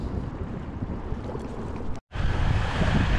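A West Marine boat pounds through choppy water and big waves, with steady rushing water and wind buffeting the microphone, a brief dropout near the middle, then the loud rush resumes.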